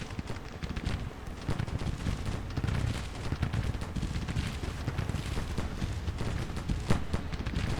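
Dense, continuous gunfire from a Civil War battle in a video game: volleys of musket shots crackle steadily over a low rumbling battlefield din, with a few sharper cracks standing out near the end.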